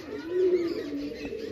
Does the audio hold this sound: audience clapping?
no